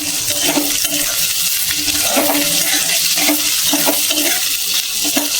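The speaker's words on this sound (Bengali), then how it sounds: "এখন দিয়ে দিলাম পেঁয়াজ, পেঁয়াজটা একটু ভাজা ভাজা হয়ে যায়।" Chopped onion frying in a pan while ginger cooks alongside, a steady sizzle with soft stirring scrapes at a fairly loud, even level throughout, and no voices.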